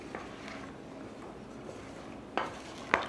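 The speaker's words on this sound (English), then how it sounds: "We're just going to give this a little bit of a stir" Fresh raw corn salad seasoned with salt and pepper is stirred in a bowl, with a soft mixing rustle and two distinct utensil clinks against the bowl near the end.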